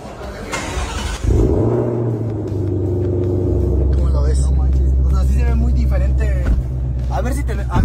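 A Ford Shelby GT500 with a supercharger cranks and fires up, then settles into a loud, deep, rumbling idle that holds steady, with people talking over the engine.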